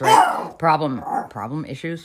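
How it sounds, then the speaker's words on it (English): A rescue dog barks and yips close by, loud short bursts tangled with a person talking over it. "Sorry for the barking."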